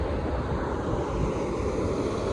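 A river in heavy flood rushes past as a dense, steady, broadband roar of water that stays constant throughout, with no voices.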